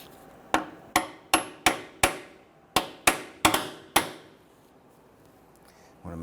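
Hammer taps drive a rear axle seal into the axle tube of a 2006-2010 Hummer H3, about ten sharp metallic strikes in two quick bursts, close and distinct, followed by quiet.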